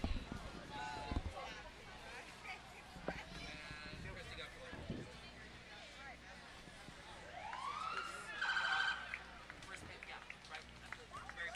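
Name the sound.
fire truck siren, Squad Engine 51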